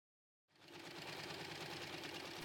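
A sewing machine stitching a diagonal seam across a beginner's tote bag starts up after a brief silence, then runs at a steady, fast mechanical whir close by.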